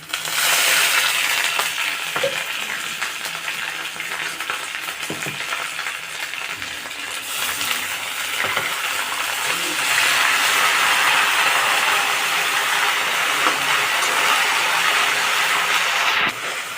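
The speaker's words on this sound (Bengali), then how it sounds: "এখন আদা রসুনের পেস্টটা দিয়ে দেবো।" Ginger-garlic paste sizzles loudly in hot oil in a pan with fried onions, a steady dense hiss that runs throughout, growing louder in the second half, with no talk.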